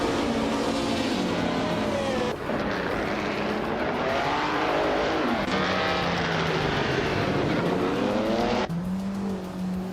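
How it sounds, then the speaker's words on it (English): Race cars in a racing video game roar continuously at close range, their engine notes rising and falling as they shift and jostle in a tight pack, with no voices. "Amy and Scuderia Veloce are nose-to-nose fighting for 7th."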